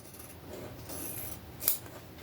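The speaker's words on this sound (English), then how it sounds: "we're going to cut this collar off right here" Scissors snip through the fabric of a shirt collar, a close, quiet crisp cutting and rubbing sound with one sharper snip near the end.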